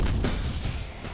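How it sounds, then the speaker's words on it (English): Explosion at a bomb range during explosives testing, a heavy low boom with broad rumbling energy sustained for about a second, loud and close, with no voices. "Explosions at the bomb range?"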